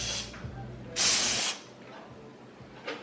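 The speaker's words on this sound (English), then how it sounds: "so we about to spray the apartment down" A can of Lysol disinfectant spray is sprayed in an apartment, heard as a sharp hissing burst of about half a second, with a shorter faint spurt near the end over quiet room noise.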